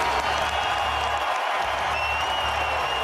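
Crowd at the 2003 NBA All-Star basketball game applauding and cheering, a steady loud wash of clapping and roar that fills the whole moment.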